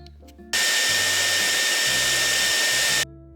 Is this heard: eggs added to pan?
no